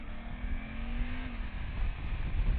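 Suzuki GSX-8S motorcycle accelerating on a city street: a steady, loud engine drone with a rising then settling tone, heavy rumble and wind noise from close up, no talk.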